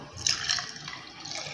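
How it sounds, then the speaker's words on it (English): Drink poured into a clean glass cup, a short liquid splash and trickle with a brief brighter burst early on, fairly close and quiet, no voices. "I'll just transfer it into a clean glass cup."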